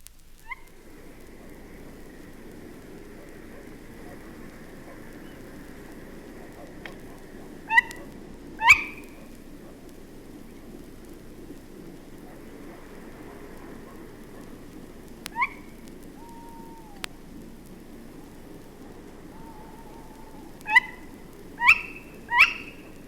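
A tawny owl gives sharp, clear calls in several bursts above a constant low rumble of traffic, while a dog barks and a second owl hoots faintly in the distance.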